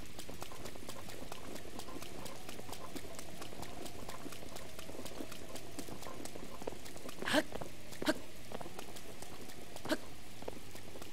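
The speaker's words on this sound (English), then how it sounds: "It's raining, stupid." Rain falling in Zelda: Breath of the Wild, a continuous soft patter and hiss with a few sharper taps, steady throughout and moderately faint, no talk.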